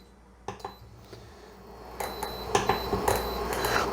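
A cooking pot is handled in a kitchen during a seafood cooking class: a run of sharp metallic clanks and knocks, close and irregular, growing busier toward the end, with no talking.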